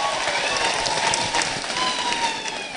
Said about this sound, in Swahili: Hebu makofi kwake.